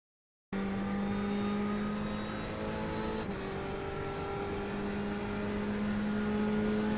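Ferrari race car lapping Le Mans in the iRacing simulator, a steady loud engine drone holding one pitch with a brief shift midway, no talk over it.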